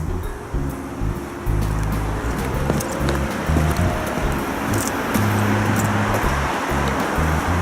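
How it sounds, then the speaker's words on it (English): A 200-year-old water wheel still turns, giving a constant rushing, splashing wash of water with a steady low rumble underneath, fairly loud and unbroken. "this 200-year-old plus water wheel, just phenomenal. Apparently it still works."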